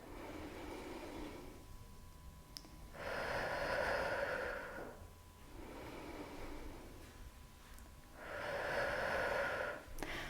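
Slow, deep breaths during a pelvic floor breathing exercise, two long airy inhales a few seconds apart, close and soft over a faint steady hiss.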